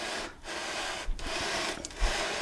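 A guitar neck fretboard being sanded on a sanding beam: a dense, continuous abrasive rasp that pushes back and forth, with brief dips at each change of stroke direction.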